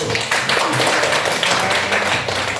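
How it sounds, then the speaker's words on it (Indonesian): Classroom applause for the first student group after a micro-teaching presentation, a steady wash of many hands clapping together, dense and continuous with no voices standing out. "tepuk tangan untuk kelompok 1"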